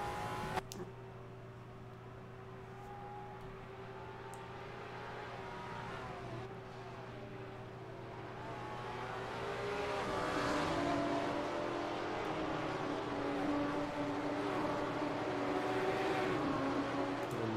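Porsche race cars at Interlagos in the simGT4 sim racing game. The engines drone steadily and rise as a car nears and passes, moderately loud, with no talk.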